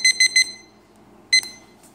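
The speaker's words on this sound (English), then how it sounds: "Or you can set your own timer" A Glovion digital kitchen timer beeps in a quick burst of three shrill tones, pauses, then sounds once more, clear and close in a quiet room.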